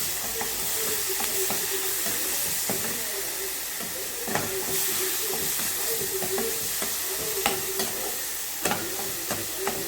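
Ground onion paste, with tomato and garlic, is stirred into hot oil in a pan for a small-onion egg gravy, a steady close sizzle and hiss with scraping stir strokes, no talk.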